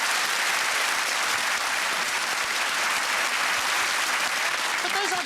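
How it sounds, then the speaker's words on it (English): Sustained, dense applause from a studio audience on a British comedy quiz panel show, loud and even throughout with no break, with a little indistinct voice mixed into the clapping. "applaud yourselves"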